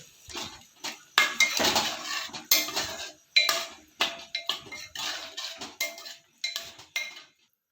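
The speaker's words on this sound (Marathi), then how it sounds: "आता छोले व्यवस्थित मिक्स करून घ्यायचे" A spoon scrapes and clinks against a metal pan in a quick, irregular series of stirring strokes mixing chickpeas, close by, with no talking.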